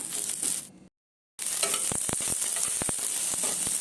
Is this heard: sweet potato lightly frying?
yes